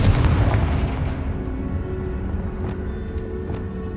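A spell explosion from Bombarda or Confringo in the video game Hogwarts Legacy: a deep, artillery-like boom right at the start that rolls away into a long, fading rumble with a few faint clicks.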